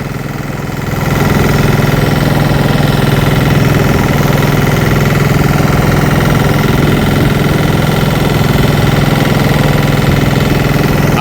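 Loud, steady mechanical drone of a fishing boat's net-hauling machine starting up and running continuously, pulling the net and catch aboard, with a dense rumbling, knocking texture and no speech.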